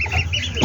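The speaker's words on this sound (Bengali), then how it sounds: "10 দিন বয়সী হাঁসের বাচ্চা।" Ten-day-old ducklings give a brief, close burst of honking calls lasting under a second.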